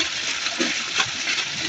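Water drains steadily from a concrete tilapia pond, a continuous close rushing gush with a slight gurgle throughout, no talk.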